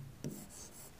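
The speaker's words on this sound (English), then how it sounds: "I'll write." Chalk or marker scratching on a classroom board while an equation is written, a brief soft scrape followed by lighter faint strokes, quiet and close with no talking.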